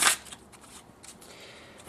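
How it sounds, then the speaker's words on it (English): A deck of playing cards gets a brisk shuffle, opening with a loud riffle burst and then softer papery flutters and taps that trail off, close by with no talking. "So they'll take the deck and give it a shuffle."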